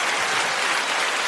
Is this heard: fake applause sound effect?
yes